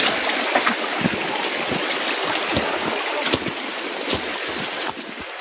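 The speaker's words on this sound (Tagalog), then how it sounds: "Tatawid kasi tayo ng ilog eh." A small river flows along a rough, overgrown path, its water rushing in a steady, close wash with scattered splashes and knocks, and no voices.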